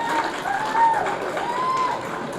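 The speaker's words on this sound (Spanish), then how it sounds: "Un saludo a ellos y un aplauso." Steady applause from an audience in a Senate press room welcoming visiting schoolchildren, a soft continuous wash of clapping with faint tonal sounds in the background.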